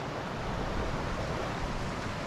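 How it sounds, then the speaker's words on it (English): The West Okement River on Dartmoor flows in a quiet, even rush of running water, continuous and fairly distant, with no voices. "we are along the West Oakmont River here now"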